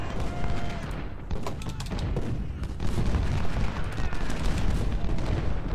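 Artillery and rifle fire from the Ultimate General Civil War video game at the Mule Shoe at Spotsylvania, a dense continuous barrage of overlapping booms and crackling volleys with no break.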